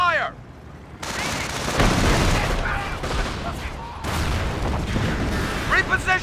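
Gunfire from infantry squads in Company of Heroes, Causeway mission during the battle over Cauquigny: dense, continuous volleys and bursts with booming impacts, close and loud, with shouted voices mixed in.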